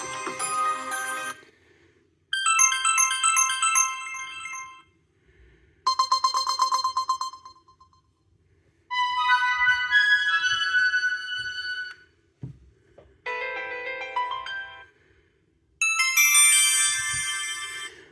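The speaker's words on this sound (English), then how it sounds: "So let's go on to the phone ringtones" Several different electronic ringtones from an ASUS Zenfone 10 phone's loud stereo speakers play one after another, each a short bright melodic burst separated by brief silences, clear and close.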